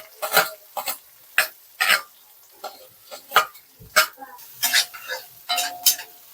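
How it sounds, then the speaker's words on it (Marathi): Onion fries in oil with cumin, ginger, garlic and curry leaves for a ridge gourd bhaji, heard as a steady rhythm of about a dozen close spatula scrapes and stirs over a soft sizzle. "आलं लसूण टाकते कडीपत्ता सुद्धा टाकलाय तेलामध्ये"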